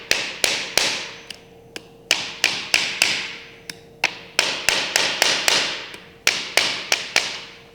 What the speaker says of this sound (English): you're gonna take a hammer and you're gonna drive these teeth into the board